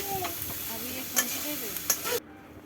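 Ridge gourd and potato curry with dried fish stirred and sautéed in a pan in a village kitchen, a steady sizzle with sharp spoon scrapes against the pan, then the sound cuts off abruptly near the end.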